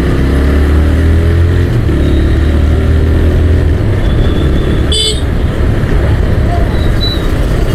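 Busy road traffic heard from a motorcycle, with a steady loud engine and road roar throughout and a short car horn toot cutting through midway, plus faint distant honks.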